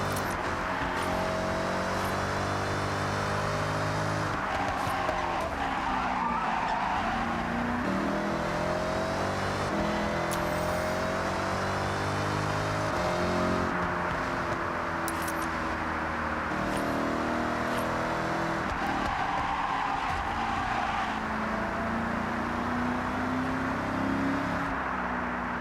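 Video-game car engine drones steadily while cruising on a freeway, a continuous loud hum with gently shifting pitch as the car holds speed, with no voices.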